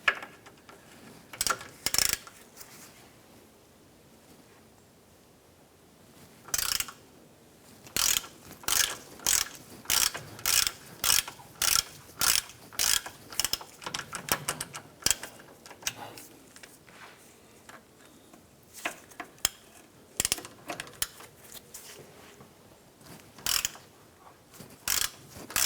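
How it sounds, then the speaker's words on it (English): A 10mm socket on a ratchet loosens sway bar bolts on a 1994-2004 Chevrolet S10, giving bursts of quick sharp clicking strokes, some single and many in rapid runs, close and fairly quiet in a still garage. "Using a 10mm socket and ratchet, we're going to loosen these two bolts that are securing our sway bar to the chassis."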